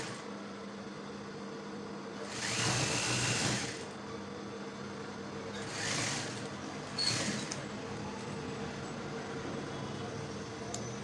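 A sewing machine runs a stitch across a shirt collar in three short bursts, one longer run near the start and two brief ones later, motor whirring over a steady low room hum with no talk.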